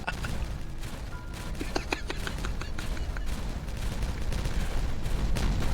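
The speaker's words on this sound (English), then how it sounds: "In fact, you don't even see the explosions." Rapid bursts of explosions in the colony-building game Timberborn crackle and pop in a dense, continuous volley, with sharper blasts standing out early on over a steady rumbling backdrop.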